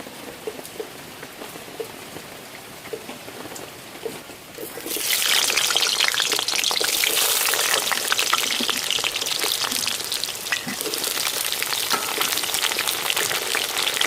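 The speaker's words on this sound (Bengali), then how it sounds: "কড়া গরম হয়ে গেছে, সরষের তেল দিয়ে দেবো।" Mustard oil hits a hot wok and bursts into a loud, steady sizzle that jumps in suddenly partway through and holds, with a quieter crackle before it.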